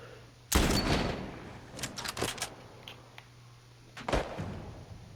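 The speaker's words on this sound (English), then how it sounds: "Where are they shooting towards?" Loud gunfire in The Last of Us Part 1 video game: a sharp burst opens into sustained shooting, then scattered shots, with a fresh volley near the end, all without talk.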